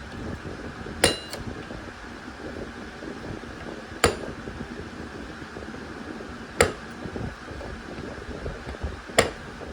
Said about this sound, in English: You're gonna need to hammer it back in place, but this time from the other side.